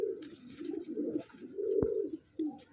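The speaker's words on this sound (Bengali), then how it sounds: "খুব কোয়ালিটিপূর্ণ পায়রা এটা" Low, soft cooing from a top-quality Andhra pigeon in repeated murmuring phrases, close by, with a brief sharp click partway through.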